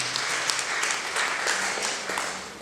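Wedding guests applauding during a church wedding ceremony, a soft, steady patter of clapping from a crowd, somewhat distant and even throughout.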